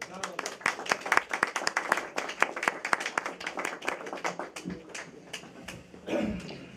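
An audience at a Chopin-themed evening claps, dense uneven hand claps mixed with voices and room chatter, then a speaker begins as the applause fades.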